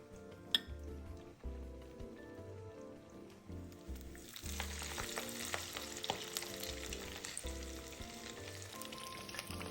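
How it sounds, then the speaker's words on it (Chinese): Shrimp and chive fritters deep-frying in hot oil: a bright, crackling sizzle swells in after a few seconds and keeps bubbling steadily beneath background music, with a few faint utensil clinks. "每片炸約2至3分鐘，聲音由大變小，代表水分蒸發完成。"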